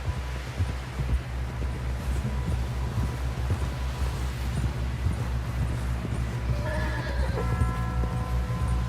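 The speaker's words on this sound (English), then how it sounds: "Someone help John down off this horse." In Red Dead Redemption 2, a horse gallops with steady hoofbeats and snorting, then whinnies loudly near the end, all in a game-like mix with no talking.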